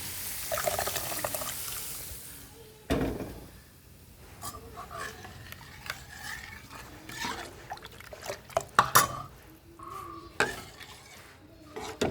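Boiled liquid for a buttermilk curry pours and splashes into a pot up close, amid hissing, clinking utensils and stirring sounds; no one speaks.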